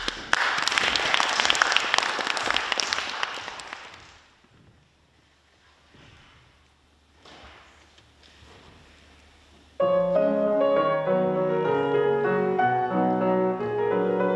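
An audience at a recital of Chopin's Polish songs claps loudly for about four seconds, the clapping thinning out before a quiet pause and the start of piano playing.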